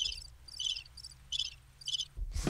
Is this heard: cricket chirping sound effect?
yes